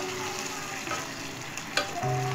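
Eggplant in sweet and sour sauce sizzles and simmers in a pan, a steady soft frying hiss with a few light stirring clinks and scrapes near the end.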